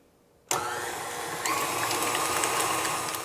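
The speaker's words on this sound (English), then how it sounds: "we'll beat those in until smooth" An electric mixer starts abruptly and runs steadily, beating egg yolks into a lemon cream cheese batter for keto muffins. The whir is loud, close and continuous, with no talking.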